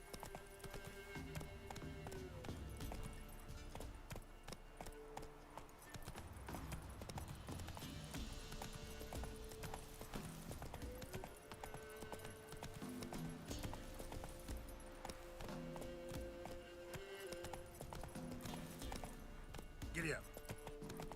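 Roach, Geralt's horse in The Witcher 3, gallops with a steady rhythmic clip-clop of hooves, joined by a brief whinny, under game music and spoken lines from a voice in the game.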